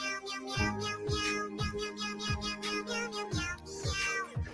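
A cat in an AI-generated clip meows repeatedly, a rapid run of loud, close, strained yowls with a bouncing rhythm, continuous for several seconds with no talk over it.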